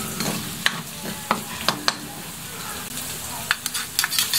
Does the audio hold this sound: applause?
no